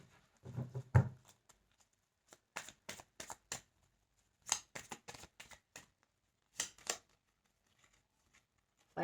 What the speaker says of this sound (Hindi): कार्ड्स कैसे फ्लिप हो रहे हैं